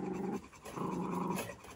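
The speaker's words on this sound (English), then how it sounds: "The one growling is Chico." A puppy growls low and continuously at close range while playing with new toys among other puppies, with a brief pause midway.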